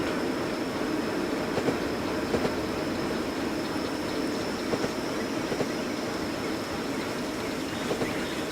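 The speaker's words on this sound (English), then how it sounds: "It's cool though, we got a train." A train runs in the railway video game Train World on a US railroad, a steady, loud rumble of rolling wheels and carriages with faint rhythmic clacks and no pauses.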